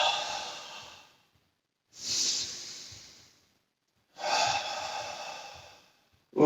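Three long, breathy exhalations during a Pilates exercise, heard close and alone, each fading out before a silent pause.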